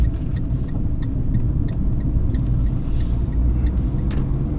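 A Fiat 500 Pop with the 1.2 engine and Dualogic gearbox being driven, heard as a steady low engine and road rumble from inside the cabin, continuous and moderately loud.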